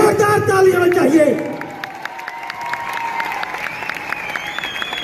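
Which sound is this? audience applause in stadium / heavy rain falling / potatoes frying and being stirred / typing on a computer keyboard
audience applause in stadium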